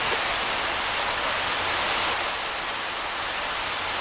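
A loud, constant rushing hiss of water spraying under pressure from a fire hose at a burning house in the video game Emergency 4, steady throughout without pauses or voices.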